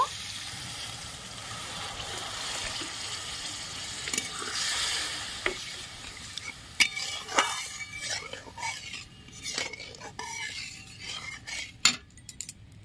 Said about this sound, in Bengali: মশলা থেকে তেল ছেড়ে দিয়েছে, পরিমাণ মতন জল দিয়ে দেব